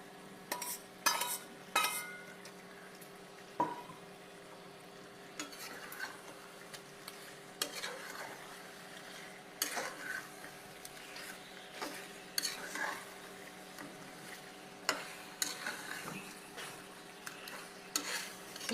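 Spinach stir-fried with chicken in a pan for palak chicken curry, giving a quiet, steady sizzle with repeated spatula scrapes and taps against the pan, and no talking.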